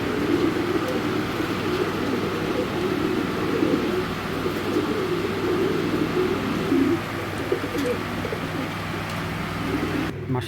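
Racing pigeons, a loft of club-rested birds kept for sale, coo in a dense, continuous murmur of overlapping low calls, steady and close throughout, with a faint rumble beneath.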